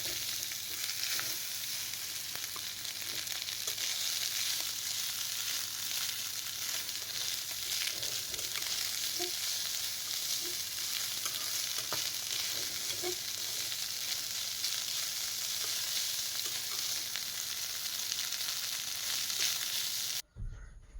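Eggs frying in a pan before rice is added, giving a steady, close sizzle that runs almost unbroken before cutting off abruptly near the end.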